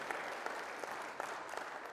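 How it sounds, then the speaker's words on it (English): A church congregation applauding on a Sunday morning: a soft, steady patter of many hands clapping, fairly distant and even throughout, with no voices on top. "would you give them a round of applause this morning?"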